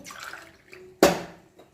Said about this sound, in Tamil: தண்ணி சேர்த்துக்கலாம் இது எல்லாமே நல்லா கரைஞ்சி வரட்டும்